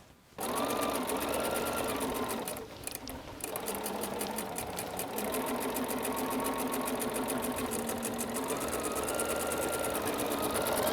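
Sewing machine with a walking foot on, stitching curved quilting lines on a lemon table topper: a steady, close, continuous whirring hum with rapid needle clatter, briefly dipping once before running on.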